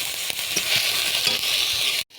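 Ground onion, garlic and tomato paste fries in oil left over from frying fish, a dense, steady sizzle close up that stops abruptly at the end.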